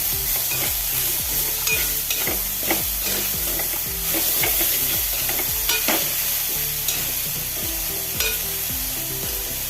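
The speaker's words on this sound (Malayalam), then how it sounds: "ഉപ്പിട്ട് നല്ലപോലെ ഒന്ന് ഇളക്കി" Salted ivy gourd stir-fry sizzles steadily in a pan while a spatula scrapes and taps in a rhythmic stirring pattern, close and fairly loud, with no talk.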